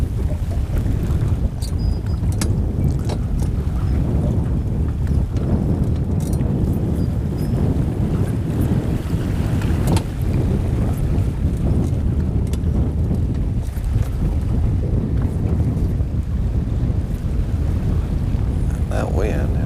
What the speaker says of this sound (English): That wind has really picked up right there.